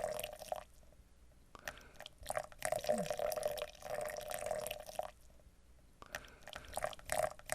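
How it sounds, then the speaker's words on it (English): Hot water poured from a kettle into a French press in a steady trickling stream, close and quiet, with brief pauses in the flow. "Let's add the remaining 250 grams of water."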